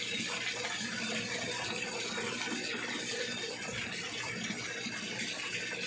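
Water rushes steadily through a floating venturi in a backyard tilapia tank, a continuous close splashing flow with no pauses throughout.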